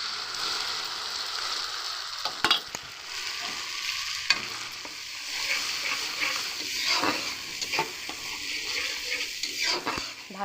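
Green chili, onion and ginger paste frying with garlic in a pan, an even hiss of sizzling oil with scattered spoon stirs and clinks against the pan, moderately quiet and without speech.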